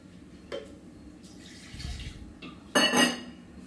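Idli batter is mixed by hand in a bowl in a Kerala kitchen, giving a few close, scattered scrapes and clinks against the vessel, the loudest near the end, with no talking.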